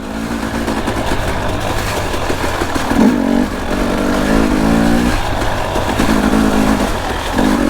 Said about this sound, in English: Maybe I shouldn't go through the bogs this fast